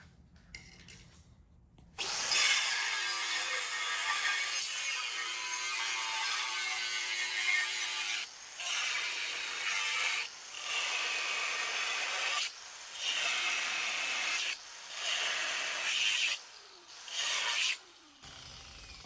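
Thin sheet metal is cut out for a brake master cylinder bracket in a fabrication shop. A loud, harsh, steady hissing cut runs in several long passes, broken by short pauses.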